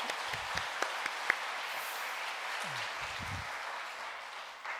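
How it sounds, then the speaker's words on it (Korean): A church congregation applauds, a steady, fairly soft patter of many hands with a few louder claps near the start and faint low voices underneath. "우리 박수로 하나님께 영광 돌리겠습니다."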